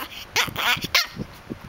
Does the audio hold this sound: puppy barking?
yes